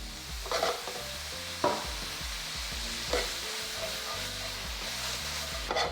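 Walnuts and cashews sizzle steadily in a pan with a dash of maple syrup, a continuous close frying hiss punctuated by a few scraping stirs, with no talking.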